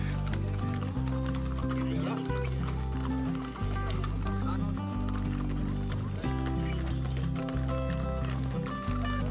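Horses' hooves clip-clop steadily through a horseback cavalcade to Juchitlán, mixed under loud music with a strong bass beat that runs throughout.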